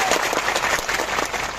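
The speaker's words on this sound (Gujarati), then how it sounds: "એમના માટે જોરદાર તાળીઓ પાડી" A large crowd at an Aam Aadmi Party political meeting with MLA Chaitar Vasava claps vigorously, a dense, steady burst of applause throughout the short stretch.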